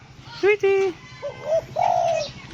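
A close bird makes a few short calls and then a soft, drawn-out coo, while a faint hum runs underneath.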